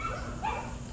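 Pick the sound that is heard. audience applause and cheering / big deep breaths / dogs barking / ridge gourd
dogs barking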